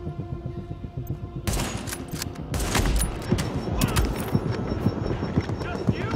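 Rapid gunfire in The Division, a steady rattle of shots that grows denser and louder partway through, with a player talking over the shooting.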